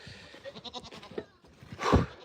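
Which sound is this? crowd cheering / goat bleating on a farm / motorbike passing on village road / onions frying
goat bleating on a farm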